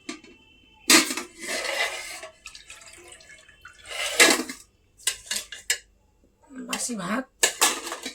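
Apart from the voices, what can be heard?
washing a plate, dishes clattering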